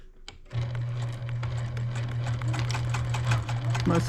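A sewing machine stitches a quarter-inch seam on a quilt, starting with a short click and then running in a steady, continuous mechanical whir with a fast needle rhythm. It is close and alone, and it holds a constant pace for nearly four seconds.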